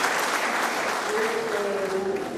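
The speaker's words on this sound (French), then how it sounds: "Je vous demande d'applaudir Pascal Soulard" Audience at an anniversary gathering of a workshop in Le Mans applauds a speaker, a steady, moderately loud wash of many clapping hands, with a voice rising briefly over it.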